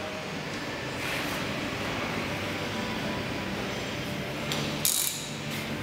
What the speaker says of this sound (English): And secure with a ratchet and torque wrench to 86 Newton meters.